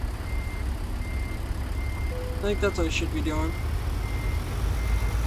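A truck in American Truck Simulator parks while backing up, its faint, regularly spaced reversing beeps sounding under a constant engine rumble, with someone talking in the middle.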